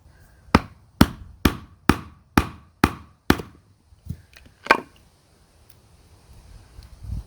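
Sharp, evenly spaced blows strike a wood chisel driven into a piece of wood, seven loud hits in a steady rhythm followed by a few lighter taps and quiet handling noise.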